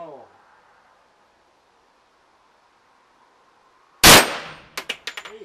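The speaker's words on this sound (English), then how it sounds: "We hit the bell." A pistol shot rings a steel bell target at an outdoor range: a sudden loud crack and clang, then several quick fading metallic rings, after a long near-silent stretch.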